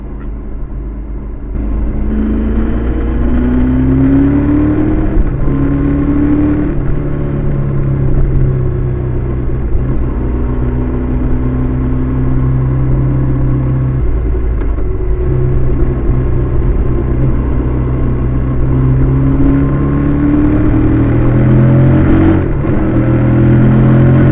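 A 2022 Triumph Tiger 1200 motorcycle accelerates along an open road, its engine rumbling loud and steady from close by while the pitch climbs through several gear pulls over about twenty-four seconds, without speech.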